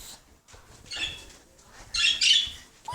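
Pet birds kept at home give short chirps and squawky calls in a few bursts, fairly close and moderately loud, with quiet gaps between and no talking.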